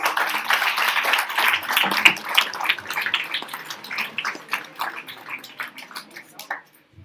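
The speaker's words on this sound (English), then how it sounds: "Please give them a round of applause." Audience clapping for young children at a school event, a dense round of applause that gradually thins and fades out over several seconds.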